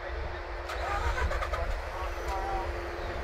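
Mazda RX-8 rotary engine cranking and catching from off, a steady loud low rumble throughout with broadband roar above, voices talking over it.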